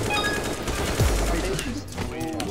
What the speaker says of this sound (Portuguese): Ele troca tiro, galera.